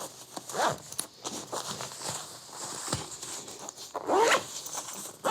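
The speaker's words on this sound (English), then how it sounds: "That zipper isn't very solid." A clothing zipper is pulled closed on a garment that fits a little small: two quick rasping zips, one early and one near the end, close-up with faint shuffling between them.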